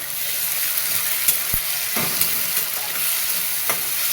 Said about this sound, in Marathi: टोमॅटो पण टाकून घेते त्याच्यासोबतच आपलं टोमॅटो पण परतलं जातं त्याच्याबरोबर मस्त परतून घ्यायचं